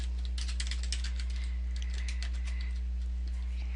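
Quick run of clicks from a computer keyboard as a password is entered, near and crisp over a steady low electrical hum, no one talking.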